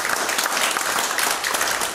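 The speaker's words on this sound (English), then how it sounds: "Give the Lord one more hand clap." A church congregation claps in a short burst of applause, a dense wash of many hands at close range.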